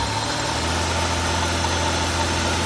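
A 2000 Buick LeSabre engine runs under brake torque, a steady loud low drone with constant mechanical vibration, close and unbroken for the whole stretch.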